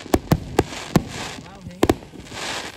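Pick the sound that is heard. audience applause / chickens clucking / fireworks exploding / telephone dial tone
fireworks exploding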